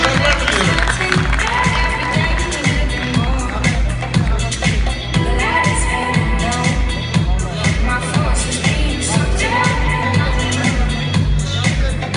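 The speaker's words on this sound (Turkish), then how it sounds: "Kocaman bir alkış" Loud, sustained applause and cheering from a ceremony audience in Istanbul, crowd clapping and voices blending into a dense roar that continues throughout, with bursts of music-like tones underneath.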